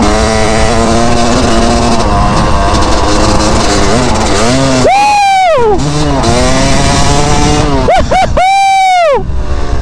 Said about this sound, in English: I gotta give it a little